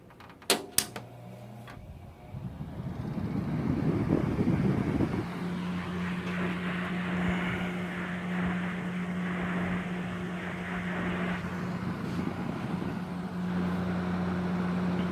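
A 1952 General Electric F15A1 electric fan is switched on with a chrome push button, clicks sound, then the fan settles on low into a steady, quiet hum with soft airy whoosh.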